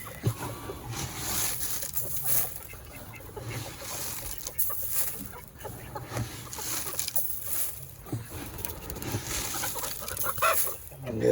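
Hens cluck in a chicken coop with bird calls scattered throughout, steady and fairly close, alongside rustling activity and no clear talk.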